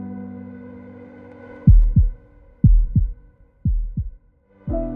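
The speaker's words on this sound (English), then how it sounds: "When was the last time you took a second and just listened to your heartbeat?" Human heartbeat, deep and thumping, with paired lub-dub beats repeating about once a second over a low sustained hum, close and prominent.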